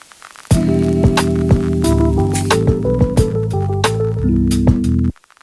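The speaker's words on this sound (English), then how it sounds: "there's a effect device called Vinyl Distortion. And there's one preset called Crack." Ableton Live's Vinyl Distortion effect on its crackle preset, steady dense crackle and clicks running under sustained tonal music notes for about five seconds, then cutting off abruptly.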